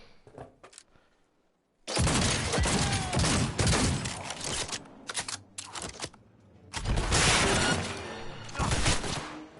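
Gunfire in Cyberpunk 2077 erupts after a quiet opening, with dense rapid volleys in long loud stretches broken by brief gaps, and a few scattered single shots.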